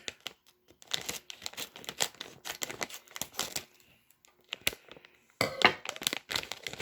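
A bag of Haribo Goldbears Sour gummies is cut open and crinkled, with quiet, close, irregular bursts of plastic crackling and rustling separated by short pauses.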